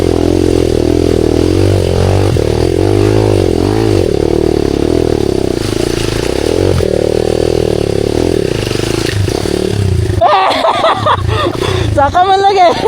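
An enduro motorcycle engine drones steadily and loudly up a rocky trail, its pitch shifting with throttle, then the sound breaks into clattering and rising revs near the end while voices mingle underneath.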